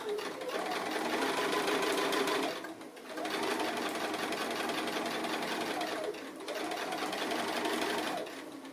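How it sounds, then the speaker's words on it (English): A sewing machine runs long straight stitches across a fat quarter cushion, a steady close mechanical whirring in three runs separated by brief pauses. "it's just going to take giant stitches all the way along that line now"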